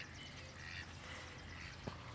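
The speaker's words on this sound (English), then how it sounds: "You can hear all my ducks and my chickens out." Backyard ducks quack in the distance, faint and brief, under blustery wind noise outdoors.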